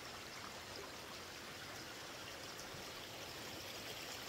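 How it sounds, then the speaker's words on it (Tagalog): A clear river stream flows steadily, an even rushing and babbling of water that stays constant throughout, close by and moderately quiet, with no voices over it. "So, dito tayo sa may ilog."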